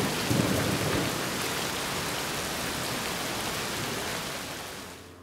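Steady rain falls in a film scene, a dense and even downpour that holds throughout without pause before easing slightly at the very end.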